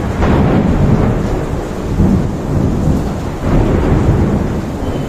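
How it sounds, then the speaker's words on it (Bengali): Heavy rain pours steadily during a thunderstorm while deep rolling thunder rumbles loud and continuous throughout, with no voices. "ঝড় বৃষ্টি দুটোই হচ্ছে"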